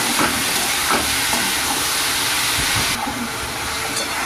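Prawns frying in hot oil in a home kitchen, a dense, steady loud sizzle and hiss throughout with faint clatter, dropping slightly in level near the end.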